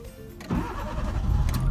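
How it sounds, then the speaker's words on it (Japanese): A car engine cranks and catches after a quiet moment, then settles into a steady, close idle rumble after an engine-control relearn and error-code reset. "改めてエンジンをかけてみたいと思います。"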